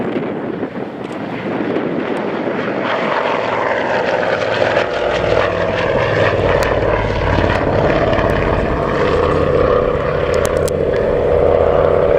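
A twin-engine Avro Anson propeller aircraft flies a display at the Scampton airshow, its droning engines holding a loud, steady throb throughout, with wind buffeting the microphone.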